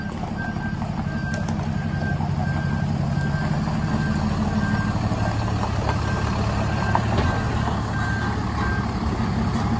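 A truck pulls into a garage yard, its reversing alarm beeping in a steady repeating pattern over a continuous low engine rumble.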